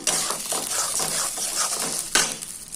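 Ground tomato and onion paste sizzles steadily in a hot pan while a spoon stirs and scrapes through it, with one sharper clink near the end; close and fairly loud, no talking.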